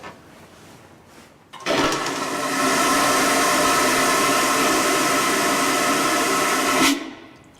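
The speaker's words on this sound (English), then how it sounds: "It's a vacuum toilet, like you have on aeroplanes or on ferries." A loud vacuum toilet flush: after a quiet moment, a sudden powerful whooshing roar of rushing air holds steady for about five seconds, then cuts off abruptly.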